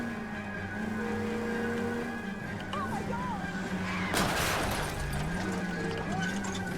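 A car drives in the video game L.A. Noire, its engine droning and shifting pitch with a sharp burst midway, the motor noise running under the game's sounds.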